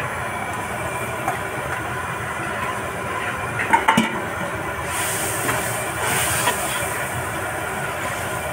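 Water poured into a hot pan of chilli paneer sets off a loud, continuous steamy hiss, with a few sharp clatters midway and a brighter surge of sizzle toward the end.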